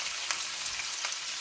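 Turnip and polk salad greens cooking in a home kitchen pan, a steady close sizzle and fry with a couple of brief louder crackles, heard alone without talk.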